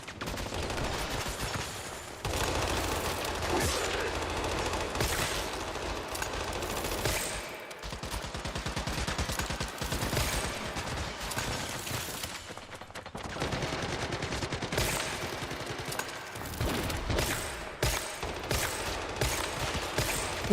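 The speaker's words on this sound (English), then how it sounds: "Warning shots." Gunfire in the video game Once Human, sustained bursts of rapid shots rattling on and off over about twenty seconds, loud and dense with brief gaps between volleys.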